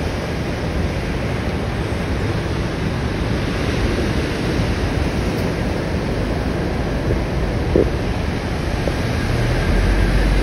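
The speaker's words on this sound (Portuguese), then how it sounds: "pra gente olhar melhor aqui a praia e o barulho das ondas" Ocean surf at São Conrado beach in Rio de Janeiro rolls in as a continuous, loud broadband roar, steady throughout and mixed with wind noise on the microphone, with no voices.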